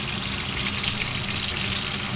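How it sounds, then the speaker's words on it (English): Hot water pours steadily into a baking pan in a kitchen, a continuous splashing gush that stays close and even throughout with no talking. "I'm going to put hot water in the bottom of this"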